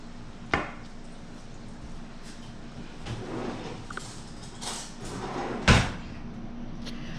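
Someone fetching a spoon in a kitchen, with a sharp cupboard or drawer knock, soft rummaging and shuffling, and a louder bang near the end, close and without talk.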